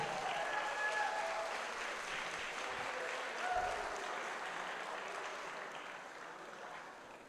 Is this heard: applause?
yes